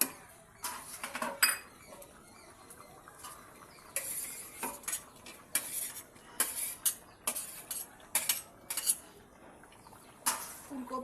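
Cauliflower goes into a simmering crab curry in a pan, heard as a quiet run of metallic clinks, scrapes and clatters from a utensil against the pan, spaced irregularly with short pauses between them.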